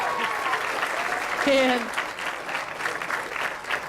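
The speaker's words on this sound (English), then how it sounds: "one more round of applause for Sean" Audience applause for Sean, the speaker at an ocean conservation youth summit talk, a dense steady wash of clapping throughout, with brief spoken words over it.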